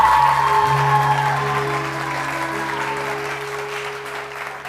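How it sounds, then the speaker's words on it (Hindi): A morning show audience bursts into a dense wash of applause that fades gradually over a few seconds, with a low electrical hum underneath. "थोड़ा सा तालियां वालियां तो बजा के दिखाइए"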